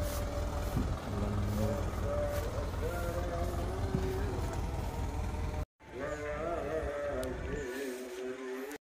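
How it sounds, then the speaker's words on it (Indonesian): A yellow truck hauling goods and accessories runs its engine at midday, a steady low rumble that fills the scene under ongoing voices, cutting out briefly before resuming. "Truk kuning ngangkut barang-barang"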